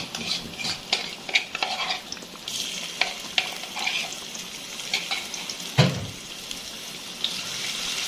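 Garlic cloves frying in hot melted ghee in a pan, stirred with a utensil; a steady close sizzle with scraping and clinking strokes throughout and one louder knock near the end.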